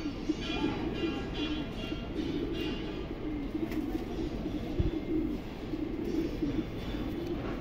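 Dark checker racing pigeons of a Dutch bloodline coo softly in a loft, repeated low throaty calls over a steady background hum at moderate distance.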